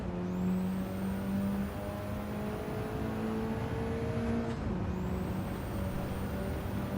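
A Mitsubishi race car revs in Gran Turismo 7 at the Red Bull Ring, a steady engine drone with tones that climb and shift, heard alone with no talk.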